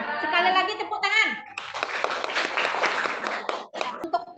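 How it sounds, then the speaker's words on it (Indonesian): Students in a classroom lesson clap together after a teacher's voice, a busy burst of hand claps with some laughter and chatter mixed in. "Sekali lagi tepuk tangan."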